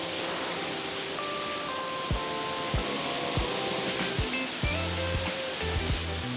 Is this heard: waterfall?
yes